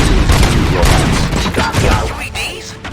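Rapid bursts of gunfire in the Robocop Rogue City video game on Xbox Series X, loud and close, cracking in clusters over game ambience and fading toward the end.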